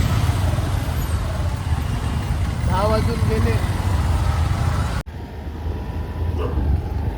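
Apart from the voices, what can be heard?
heavy road traffic in rain near Thane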